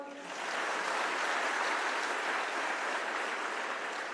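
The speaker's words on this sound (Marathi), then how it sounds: "टाळ्या जोरदार वाजवा." A crowd at a comedy speech breaks into applause, a dense, steady clatter of many hands that rises quickly and holds loud and even for several seconds with no one talking over it.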